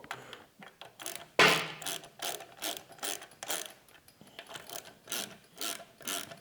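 Ratchet wrench clicking in quick repeated bursts as bolts on a Ford C4 automatic transmission are run up evenly, close and fairly quiet, with brief pauses between strokes.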